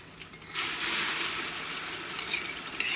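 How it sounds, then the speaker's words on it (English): Onions frying for Ghana jollof rice burst into a loud hiss as canned tomatoes and tomato sauce go into the pot, the sizzle continuing with a few stirring clinks over three seconds. "so I'm gonna add the tin tomatoes and the canned tomato sauce to it"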